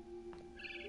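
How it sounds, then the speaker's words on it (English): A barn swallow in the video game What Remains of Edith Finch chirps faintly, a few brief high calls over a steady low background hum. "Then I heard chirping outside my window."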